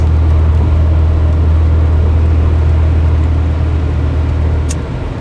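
A car driving through Little Rock streets during a February 2022 sleet storm, giving a steady, loud low engine and road rumble that continues without a break and eases slightly near the end.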